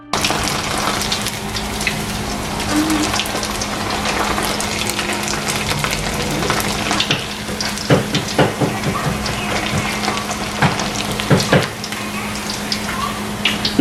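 Dried shrimp fry and sizzle in a pan for katta sambol with a steady hiss, while stirring adds scattered scraping and clinking bursts toward the end.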